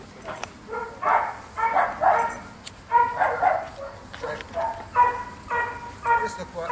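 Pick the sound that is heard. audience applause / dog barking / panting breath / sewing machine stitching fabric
dog barking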